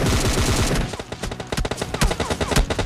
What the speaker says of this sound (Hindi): जिस तरीके से ये लोग गोली चला रहे थे